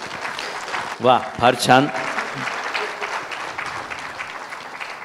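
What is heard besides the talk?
audience applause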